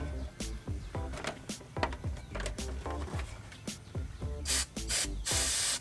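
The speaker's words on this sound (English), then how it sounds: "So I'm just gonna de-dust this" Compressed air spraying to de-dust the inside of an old PC, short hissing bursts mixed with clicking and rattling of parts, growing into a longer blast at the end, close and clear with no talk.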